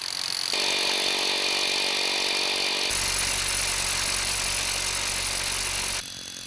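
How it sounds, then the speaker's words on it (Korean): A rock drill bores holes into a steep 70-degree rock face, a loud, continuous broadband mechanical roar that shifts in pitch partway through and then eases slightly near the end. "바위 표면에 구멍을 뚫는 천공 작업이 시작됐다"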